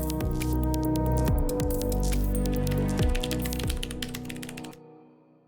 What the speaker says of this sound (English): With the Omen Spacer Wireless TKL, you'll get a mechanical keyboard